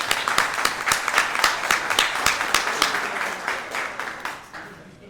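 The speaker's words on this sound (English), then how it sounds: "So let's give these folks a round of applause." Members at a Rotary Club meeting clap in a room, a sparse scattering of distinct, sharp hand claps that gradually thins and fades over five seconds.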